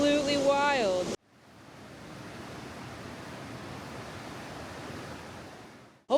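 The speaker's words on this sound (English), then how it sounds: "I'm right by a rushing river, which is beautiful." Rushing river on a sea-to-sky mountain hike, a steady broadband roar of flowing water heard alone after a brief burst of speech at the start.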